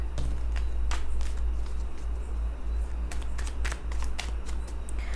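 Tarot cards are handled close up, making a run of crisp, quick flicks and slides as they are tucked back into the deck. A low, steady hum sits underneath, and there is no talk.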